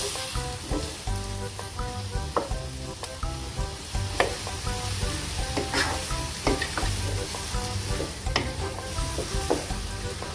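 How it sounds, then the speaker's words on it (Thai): Minced pork stir-frying with eggplant and fresh green peppercorns in a hot pan, with a steady sizzle and repeated scraping strokes of a spatula, near and fairly loud, with no voices. "แล้วก็ใส่พริกไทยสดลงไปค่ะ แล้วก็ผัดไปเรื่อยๆ"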